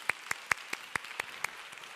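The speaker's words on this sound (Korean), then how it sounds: "방송실의 자막팀에게 박수 한번 주실까요?" Sparse, slow claps at a Korean church worship service, about seven distinct hand claps spaced evenly across two seconds, fairly close and unaccompanied by talk.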